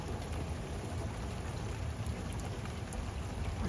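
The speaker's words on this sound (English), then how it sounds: "And it rains and rains and rains." Outdoor rain falls steadily into and around a bird bath during a spring storm, a dense, even patter of drops that continues unbroken at moderate loudness.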